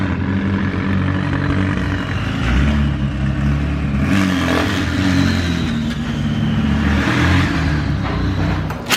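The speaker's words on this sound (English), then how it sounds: "There's something rattling around in this thing." A McLaren 600LT's engine hums and revs in a loud, steady drone with irregular clattering and rattling mixed in, suggesting something loose underneath the car.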